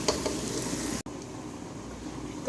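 Onion and tomato gravy with spices, made for a mutton paya curry, simmers on low heat with a soft, steady bubbling hiss that drops out for an instant before resuming.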